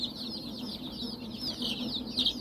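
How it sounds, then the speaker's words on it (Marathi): Incubator-hatched desi chicks peep continuously in a steady, busy chorus of high chirps, fairly close and alone without any talking. "इन्क्युबेटरमध्ये काढलेले पिल्ले आहेत तुम्ही पाहू शकता सगळे ॲक्टिव्ह आहेत"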